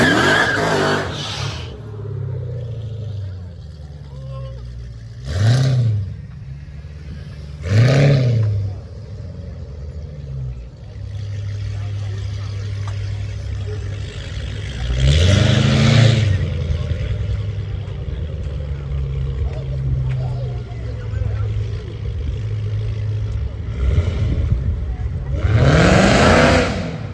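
At an outdoor car meet, a car spins its tires in repeated bursts, the engine revving up and down with rising whines and tire squeal between quieter idling, while people shout and talk nearby.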